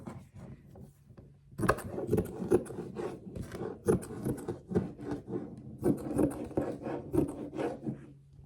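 Scissors snip and slide through a piece of sewing material in a series of close, irregular crisp cuts, with a short pause early on and no talking.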